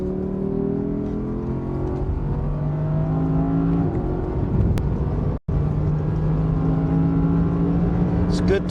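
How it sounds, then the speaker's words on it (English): An official safety car driving fast on a race track, its engine droning loud and steady with shifting harmonic tones and a brief dropout mid-way. "Hard on the brakes in this official safety car."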